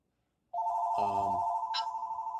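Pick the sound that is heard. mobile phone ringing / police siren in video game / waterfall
mobile phone ringing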